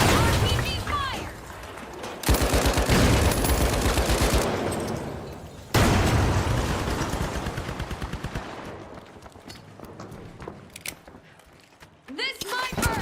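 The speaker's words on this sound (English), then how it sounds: "RPG fire." Explosive RPG fire and blasts in The Finals burst out as two loud, sudden roaring impacts amid dense gunfire rattle, then fade into rapid crackling shots while a voice talks over the chaos.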